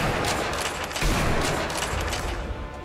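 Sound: enemies shooting at player in video game Sniper Elite V2

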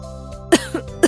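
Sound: woman coughing

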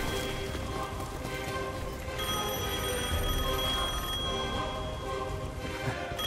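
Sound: telephone ringing in the video game Devil May Cry 5

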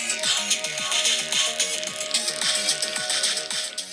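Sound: music played through a phone speaker

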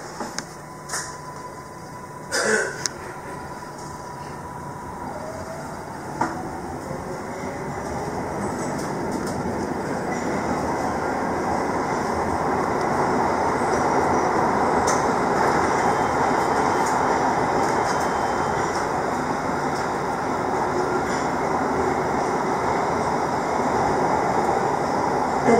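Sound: MARTA Red Line subway train riding

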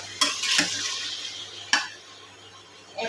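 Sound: stirring fish curry in a pan

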